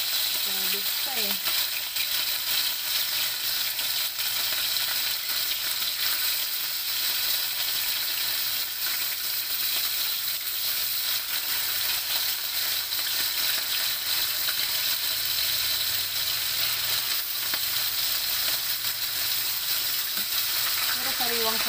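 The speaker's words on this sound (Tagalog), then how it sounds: "Magpiprito naman na tayo ng ating galunggong." Fresh galunggong frying in oil gives a continuous dense sizzle and crackle that stays loud and steady for over twenty seconds, with brief faint voices at the start and end.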